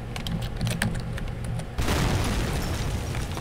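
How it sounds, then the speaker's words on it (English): Small explosion in the video game Penumbra: Overture, a sudden dull boom and broad rumbling burst that swells midway after some light clicking and shuffling sounds, ending in a sustained rumble. "that was like a baby explosion"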